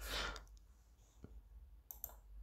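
A few faint, sharp computer mouse clicks spaced apart in a quiet room while navigating an app, with light background hiss.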